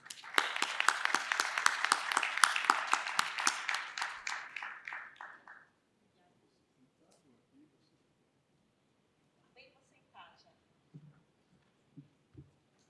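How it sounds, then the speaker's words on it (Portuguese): Audience at a Brazilian business congress panel applauds with dense, steady clapping that fades out after a few seconds, leaving near silence with a few faint scattered noises. "uma salva de palmas para ela"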